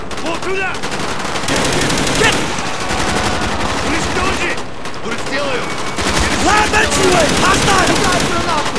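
Dense automatic gunfire in Call of Duty Black Ops fills the scene with loud, continuous bursts and overlapping shots, with voices and game chatter mixed in throughout.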